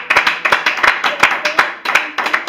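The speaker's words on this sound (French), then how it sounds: "Est-ce que quelqu'un peut acclamer très très fort pour la gloire du Seigneur?" A church congregation claps together during a Sunday service, giving brisk, rhythmic clapping that sounds close and lively.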